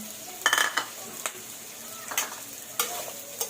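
Pre-cooked pork for Bicol Express-style binagoongan is stir-fried in a pan under a steady sizzle, with a spatula scraping and clacking against the metal in irregular bursts.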